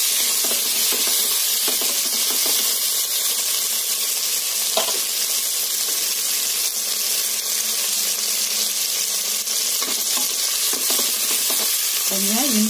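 Green chillies and tomatoes frying together in a hot pan for coconut milk rice, a loud continuous sizzle and hiss with occasional stirring scrapes, close and without talk.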